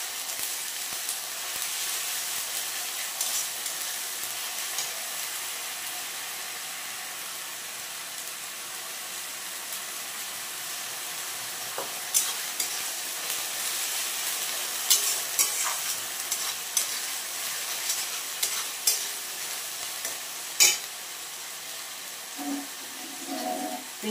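Onions frying with ginger-garlic paste and green chili, a steady low hiss of sizzling oil with occasional spoon scrapes and stirring clicks, alone and fairly close throughout.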